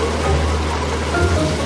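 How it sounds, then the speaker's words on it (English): Rain falls steadily on a yacht at sea off Crete in the Mediterranean, a dense, even hiss with no voices. "And a little rain causes big problems."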